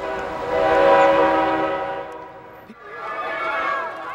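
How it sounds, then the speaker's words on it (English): Train passing through Appalachian coal country, blowing a loud multi-tone horn that swells, fades, then sounds again, over the rumble of rail cars. "The train cuts through the heart of America's coal country"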